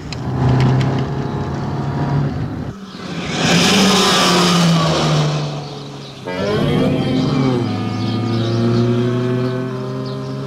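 A car drives at speed on a road test, with a steady engine drone at close range that rises and shifts pitch through gear changes and acceleration, loud throughout.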